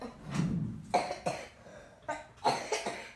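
A young child who is ill with congestion coughs repeatedly, about five or six wet, hacking coughs in quick bursts, close by.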